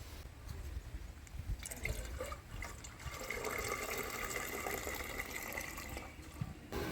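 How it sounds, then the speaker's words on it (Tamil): Two litres of creamy milk pouring into a pot for boiling, a steady liquid splash and trickle running continuously throughout, close and fairly soft. "இப்போ நம்ம 2 லிட்டர் பால் எடுத்து காய்ச்ச போகிறோம்"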